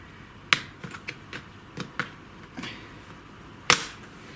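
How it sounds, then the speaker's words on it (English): Laptop components clipping into place during a repair: a series of sharp, close plastic snaps and clicks at irregular intervals, with one louder click near the end. "Can you hear it all clipping in?"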